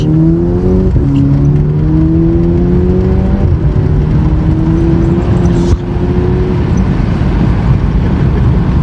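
Seat Cupra stage 2 with a new turbo accelerating hard, its engine note climbing through the revs with two gear changes in between, loud and close from inside the car.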